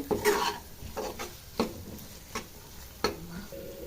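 Green peas stirred into fried spice masala in a pan, with a soft background sizzle and several distinct spoon scrapes and clinks at irregular intervals, close and moderately loud.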